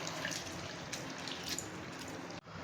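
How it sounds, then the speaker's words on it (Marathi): Water runs over flattened rice (poha) being rinsed in a kitchen, a faint continuous tap-like rush with light splashes, then a sudden cut near the end. "हे पोहे 1-2 वेळा पाण्याने स्वच्छ धुवून घ्यायचे आहेत"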